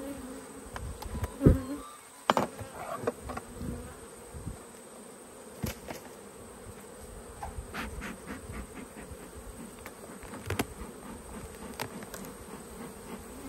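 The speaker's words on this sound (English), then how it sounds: "Lots of gold coloured bees in the top" A low, steady hum of many honeybees, some Italian, buzzing in an opened hive, with occasional knocks and scrapes of wooden frames nearby.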